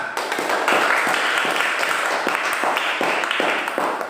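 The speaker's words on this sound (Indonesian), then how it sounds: "Mari tepuk tangan." A classroom of students clapping hands together in a lively, uneven burst that keeps going for several seconds.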